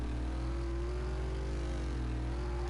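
A Hemi V8 engine dropped into an RX7 in Car Mechanic Simulator 2018, running as a loud, continuous low rumble with a slight rise and fall in pitch, heard alone.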